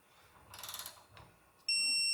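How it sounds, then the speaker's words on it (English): A torque wrench set to 20 foot-pounds gives a rapid ratcheting burst, then a loud, sustained electronic beep once it reaches torque on a torque-to-yield bolt. "we're going to go ahead and tighten that down until it beeps off"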